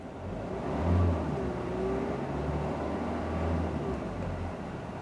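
Kia Carens 1.5 CRDI diesel engine revving steadily, a low continuous rumble with a slight rise near the start, heard up close without talk.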